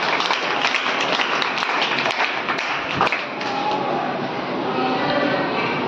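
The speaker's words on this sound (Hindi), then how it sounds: "बहुत अच्छा, ताली बजाइए आप लोग।" Seminar audience of students clapping in a sustained burst, fairly loud and even, with a few heavier thumps, then fading slightly as a voice comes in over the tail.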